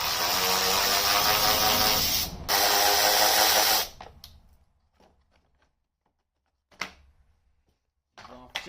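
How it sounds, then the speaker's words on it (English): Starting fluid hisses loudly from an aerosol can into a Yamaha Raptor air box in two long sprays, followed by quiet shuffling and a few clicks and knocks. "probably spray some starting fluid real quick"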